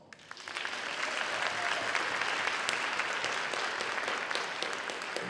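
A packed cafeteria audience at a spring band concert bursts into sustained applause after a faint start, the clapping dense and steady for several seconds with no talking over it.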